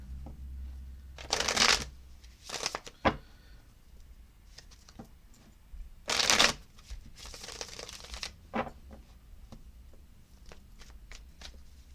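Bursts of tarot cards being shuffled, quick riffling flutters in short clusters with soft taps and handling noise between them, close and clear.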